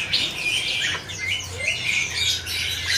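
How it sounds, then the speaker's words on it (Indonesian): A male cucak ijo songbird at a bird market kiosk gives loud, sharp squawks and warbling chirps in repeated bursts, close by, over a low steady background hum. "Di sini ada burung cicak kinoi jantan nih."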